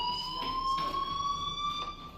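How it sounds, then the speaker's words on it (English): A steady electronic fire alarm tone in the Life is Strange video game, a sustained high ringing with faint pulsing bursts, continuous throughout and alone without talk. "Hey, do you hear that fire alarm?"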